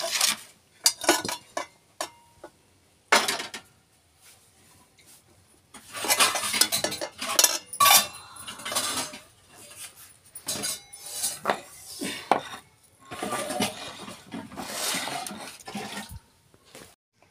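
Pots and metal utensils clank and scrape in a home kitchen while chowmein is tipped into a kadhai, irregular loud clatters separated by brief quiet gaps, with no talk.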